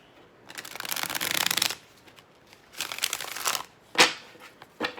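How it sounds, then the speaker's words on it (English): Tarot cards being shuffled by hand in three or four crisp riffling bursts separated by short pauses, close and fairly loud. "Let's do one more shuffle."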